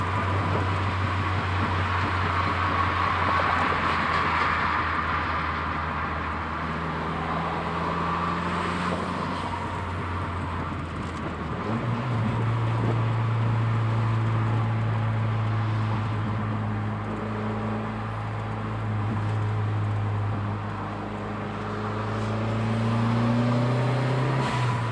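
A 1988 Dodge Shelby Shadow GS with a turbocharged engine drives along, a continuous interior engine drone whose pitch rises and drops as it accelerates and shifts, heard close and fairly loud with road noise underneath.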